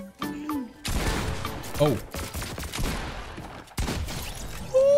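Shotgun blasts in Fortnite, played with an Azeron Compact keypad, several loud booming shots with crackling tails in quick succession, while a player's brief exclamations are heard between them.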